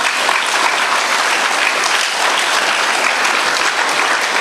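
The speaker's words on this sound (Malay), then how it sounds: "Kamu beri tepukan gemuruh kepada semua yang datang, adik, ibu dan ayah kamu malam ni." Loud, dense applause from an evening audience at a Malay-language motivational talk, a sustained roar of clapping filling the whole stretch without pause.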